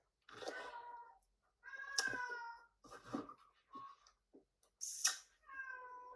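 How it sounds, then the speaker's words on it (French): A house cat meows repeatedly, giving five or six short, fairly close cries with uneven pauses between them, heard on its own and at a moderate level. "j'ai mon chat qui miaule."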